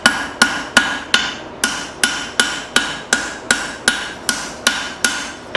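A rounding hammer strikes hot steel on an anvil while forging a spoon, with about thirteen loud, evenly spaced ringing blows at a steady rhythm and no talk.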